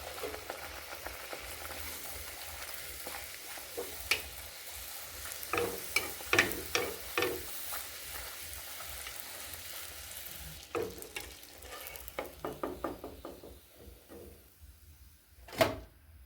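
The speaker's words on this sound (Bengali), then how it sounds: "এটাই লাস্ট ভাজা হয়ে গেল।" Palm-fruit luchi fry in hot oil in a village kitchen, a soft steady sizzle broken by clinks and scrapes of utensils, fairly quiet with no talking.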